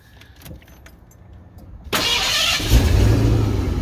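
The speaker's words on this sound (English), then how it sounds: "Ooh, that starter." A cheap Foxbody car's starter motor cranks hard after a few quiet clicks and rattles, then the loud grinding whir carries on steadily until the end.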